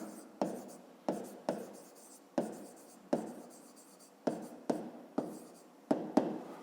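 A pen writes on paper during a fifth-grade geometry exercise, close scratchy strokes broken by about ten sharp taps as each letter or mark begins, with no voices.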